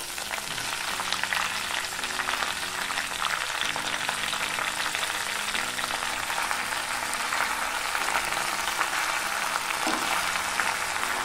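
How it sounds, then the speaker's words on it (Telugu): Green sorrel leaves fry in a tablespoon of hot oil in a pan for a tomato chutney, giving a steady close sizzle and crackle with occasional stirring, alone with no voices. "ఆయిల్ కాస్త వేడయ్యాక ఇందులోకి మనము చుక్కకూర ఆకుల్ని వేసుకున్నాము"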